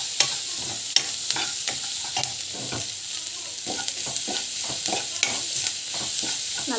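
Asafoetida sizzles in hot oil in an Indian home kitchen, giving a constant close frying hiss broken by scattered ticks and spoon scrapes as it is stirred.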